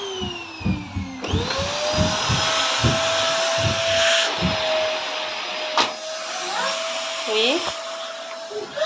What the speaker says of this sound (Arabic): نفوضها ثاني ندير لها لاسبيراتور ونكمل هنايا وصاي